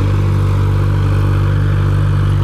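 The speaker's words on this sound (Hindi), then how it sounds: "दम देखो ट्रैक्टर का, बिल्कुल भी लोड ना ले रहा, बिल्कुल खुल के चल रहा आसानी से" Massey Ferguson 5245 tractor pulling an 8.8 harrow through a field, its diesel engine a steady, loud, unbroken low drone running easily without strain.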